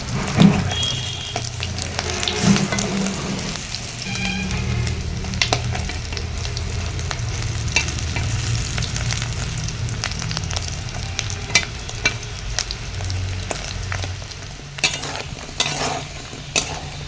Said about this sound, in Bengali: আর একই পদ্ধতিতে আবারও উল্টে পাল্টে ভেজে নিব ভালোভাবে, যতক্ষণ না লাল লাল হয়ে আসছে।